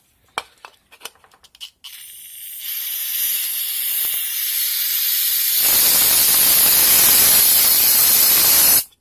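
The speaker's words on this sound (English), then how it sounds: "So I'll spray brake cleaner in here" A few sharp clicks and taps, then an aerosol can of brake cleaner sprays into a Honda G23 VTEC cylinder head during valve work, a long, loud, steady hiss that builds slightly and cuts off abruptly.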